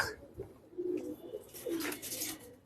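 Pigeons coo in a low, rolling burble, several soft calls repeating close by against faint background noise, with no talk.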